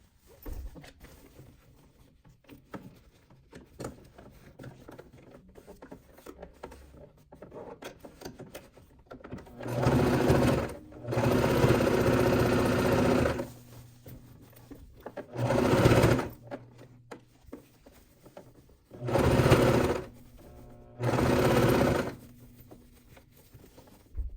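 A sewing machine stitches fabric in five bursts of fast, steady whirring, one long run near the start and shorter runs after, with quiet handling sounds between.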